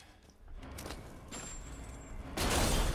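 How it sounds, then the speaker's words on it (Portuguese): A pipe bomb detonates in Resident Evil Village, a sudden loud broadband blast near the end after quieter mechanical rattling and a thin ringing tone. "Não fiquem muito próximo da explosão."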